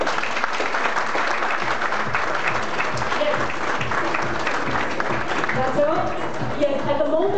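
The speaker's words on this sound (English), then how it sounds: "please help me to give a big round of applause and cheers to welcome our founder, Dr. Tang Yongchu" An audience breaks into sustained applause and cheering to welcome its founder, Dr. Tang Yongchu, at a formal appreciation event. The clapping is full and continuous throughout, with voices rising over it toward the end.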